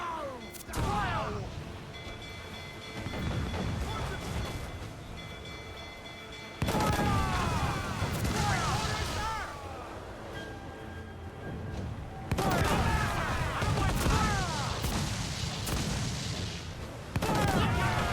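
Ship cannon blasts and gunfire in a naval battle from the video game Assassin's Creed IV: Black Flag, heavy booming volleys in several waves amid crackling shots, with shouting voices and ship noise throughout.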